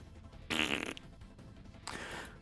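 A human voice imitates fart sounds in two bursts, a loud buzzy raspberry followed after a pause by a shorter, softer one, close to the microphone.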